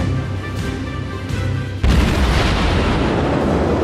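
Warship broadside fire in the naval game World of Warships: a single loud, deep cannon boom erupts and rolls into a sustained rumble, standing alone without talk.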